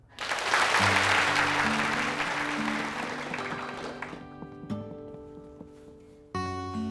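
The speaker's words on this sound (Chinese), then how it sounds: "让我们掌声有请" Studio audience applause swells loudly as a talk-show couple is welcomed onstage, gradually thinning out over a few seconds, while upbeat music plays underneath and continues alone at the end.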